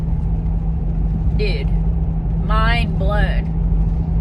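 A car cruises along the Alaska Highway at about 50–55 mph, its steady road and engine rumble loud and continuous beneath a brief spoken remark.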